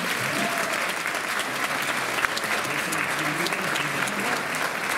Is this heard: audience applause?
yes